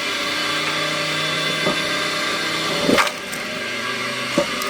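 A homemade log splitter runs loudly and steadily with a constant motor whine, and a brief cracking burst near the middle as wood splits, followed by a smaller crack later.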